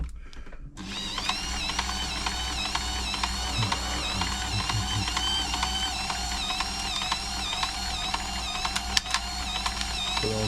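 A Frister & Rossmann 904 sewing machine runs in zigzag mode, a steady mechanical whir with rhythmic repeating clatter of the needle mechanism, close and continuous for several seconds.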